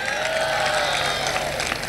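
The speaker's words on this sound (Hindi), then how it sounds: "आपकी इस बात पर जो ताली बजी" Applause from the audience at a Hindi comedy poetry gathering (hasya kavi sammelan) in Indore, a dense steady clatter of many hands clapping, fairly close and loud, running through the whole moment.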